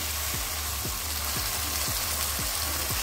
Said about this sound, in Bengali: এবার দিয়ে দেবো সামান্য একটু জল।